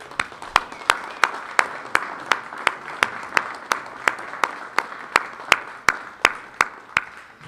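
A lone pair of hands claps in a slow, steady rhythm, about two to three sharp claps per second, close and distinct, as a Granada Forum audience thanks Ted Gunderson after his talk.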